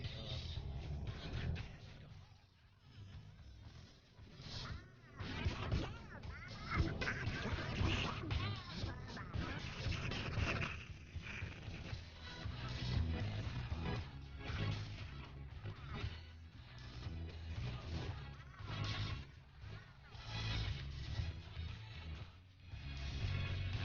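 A novelty disco song plays loud and continuous, a thumping dance beat with music and a quacking duck-style voice running throughout.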